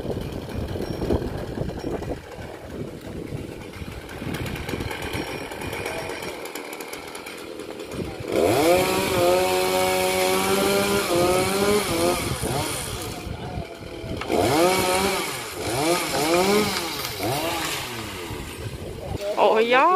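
Chainsaw cutting a crape myrtle tree in unsettled, slippery weather, the engine idling low and then revving loud into rising and falling whines through two long cuts, with a voice briefly heard near the start.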